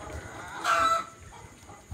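Young Fayoumi hens on a poultry farm, a brief cluck-like call rising over low background chatter of the flock, moderately close, with a soft clack near the end.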